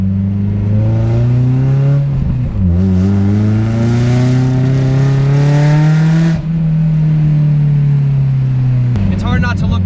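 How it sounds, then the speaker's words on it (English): A modified, drifted and turbocharged Mazda Miata with a loud exhaust, its engine note swelling and falling as the driver lets off the gas, droning close and continuously with a brief dip midway and talk over it. "just letting off the gas is just unreal how loud it gets"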